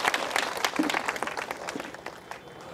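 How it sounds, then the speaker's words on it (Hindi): Brief crowd applause at an inauguration ceremony for a new school branch in Korauli, a burst of clapping from a gathered audience that gradually thins out. "एक जोरदार ताली होनी चाहिए"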